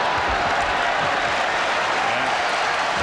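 Continuous crowd applause and cheering fills Market Square Arena in Indianapolis at a 1995 NBA playoff game between the Orlando Magic and Indiana Pacers, a dense, steady roar with commentary underneath.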